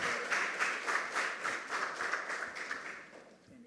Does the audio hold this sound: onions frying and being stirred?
no